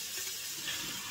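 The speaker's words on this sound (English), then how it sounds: "Go ahead and turn on the water." A kitchen tap runs steadily for a moment while sprouting mung beans are being rinsed, giving a soft, even hiss of water with no talk.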